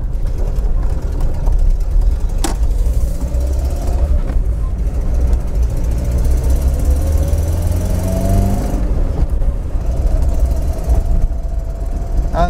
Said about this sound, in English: very noisy exhaust manifold, I'm afraid. So you're going to have to listen to that chuntering away.